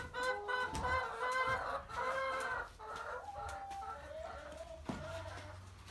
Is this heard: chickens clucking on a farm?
yes